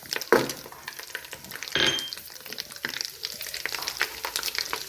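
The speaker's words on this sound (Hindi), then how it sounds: "अब हम इसके अंदर ज़ीरा, बड़ी इलायची और दालचीनी ऐड कर रहे हैं" Whole cumin, black cardamom and cinnamon hitting hot oil for a chicken white karahi, giving a steady close sizzle and frying crackle with a couple of sharper stirring clatters, no voices.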